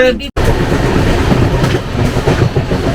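The Mithila Express passenger train rumbles loudly and steadily on the rails near Madhupur, close by, with a continuous rolling roar after a brief abrupt start.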